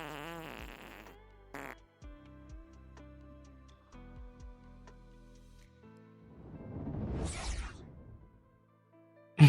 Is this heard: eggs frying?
no